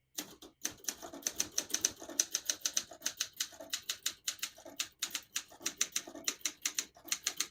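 Keys clack rapidly and evenly on a 1975 Olympia SM9 portable manual typewriter, a close, steady run of sharp strikes with no talk.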